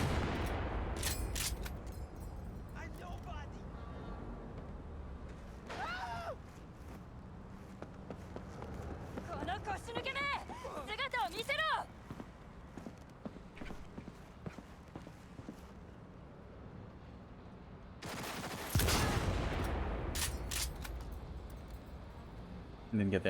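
Gunfire from a modded weapon in Cyberpunk 2077: scattered sharp bursts and a heavier blast near the end, mixed with footsteps and game effects while someone talks through much of it.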